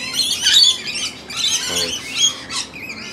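A mixed flock of four species of wild suburban birds calling together in Brisbane, Australia, loud overlapping squawks and chirps coming in several bursts at close range, with no voices.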